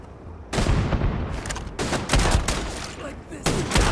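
Gunfire in the video game Starfield comes as several loud, rapid bursts of shots, close and dense, with short gaps between volleys.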